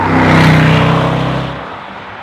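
A Jaguar XJR575's 5-litre supercharged V8 roars loudly and close by as it revs, a deep rumbling surge that peaks and then eases off as the car pulls away.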